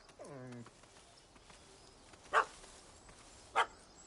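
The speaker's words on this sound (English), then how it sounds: "Don't know how to handle yappy little dogs?" A small dog yaps in the Witcher 3 game world, a short burst early followed by two sharp, well-spaced barks, heard amid quiet ambient game sound.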